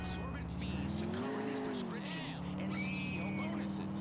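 An engine revs up in GTA IV as a car accelerates with a rising then falling drone, tires squealing in a thin high whine over steady city noise and traffic.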